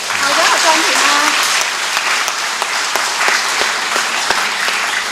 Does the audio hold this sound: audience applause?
yes